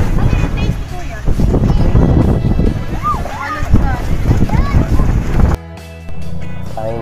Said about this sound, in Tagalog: Ang hangin din dito.